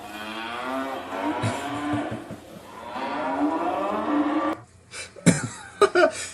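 Recorded cows mooing, played back in a talk: long, drawn-out lowing calls overlapping continuously for several seconds, loud and close, ending with a few knocks and short bumps.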